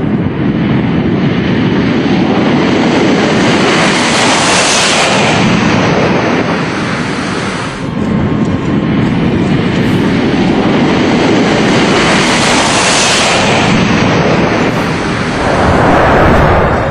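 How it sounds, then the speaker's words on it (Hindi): A C-17 Globemaster military transport jet roars loudly and continuously, its broadband rumble swelling in two long passes without any pause. "आपके टेलीविजन स्क्रीन पर जो विमान दिख रहा है, इसे C-17 ग्लोब मास्टर कहते हैं।"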